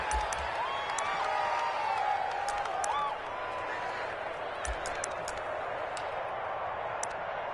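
Stadium crowd in a PS4 American football video game cheering as the home defense holds on fourth down: a steady, fairly distant roar of voices that stays under a commentator's talk throughout.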